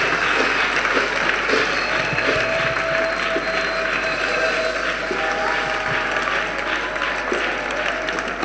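A church congregation claps hands together at a French-language revival service, a steady dense applause that fills the whole stretch with no pause, a faint voice buried beneath.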